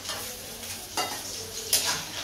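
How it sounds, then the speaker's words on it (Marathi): Coriander vadi fritters fry in hot oil with a steady close sizzle, while a utensil stirs and scrapes the pan in a few brief louder strokes, and no one speaks. "तर आता थोडं तळून घेते."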